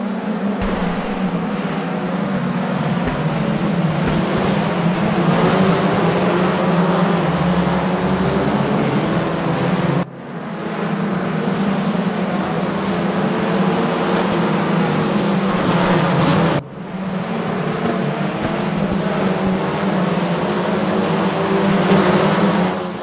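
WTCR touring cars race at Zandvoort with a Honda behind, their engines roaring loud and continuous from close range, likely onboard, broken by two brief dips as gears change or the throttle lifts.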